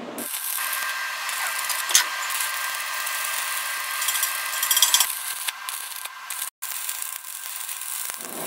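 Power saw cutting pieces in half for a homemade snow kart, a steady high whine running continuously for several seconds with a brief drop near the end.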